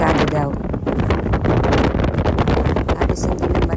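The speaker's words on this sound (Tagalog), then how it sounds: "Halos hindi na marinig yung boses ko sa sobrang lakas ng hangin." Strong wind sweeping across a bridge, roaring and buffeting the microphone as a loud, continuous rush with no letup.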